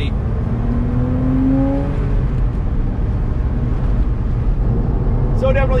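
A 1998 Porsche Boxster convertible drives along with its engine droning loudly and steadily throughout, a brief rising rev near the start and wind noise over an open top.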